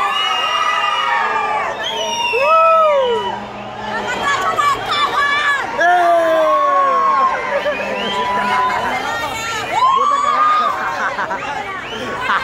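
A dense crowd of Honduran fans facing Mexican supporters shouts, whoops and cheers close by, loud overlapping voices rising in excited bursts throughout.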